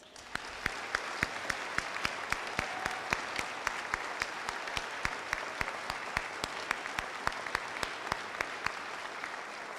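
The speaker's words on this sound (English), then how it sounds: "Let's give them one more round of applause." Steady applause from an audience at a community salute to service ceremony, a dense continuous patter of many hands with a few sharper individual claps standing out, holding at an even, moderate level throughout.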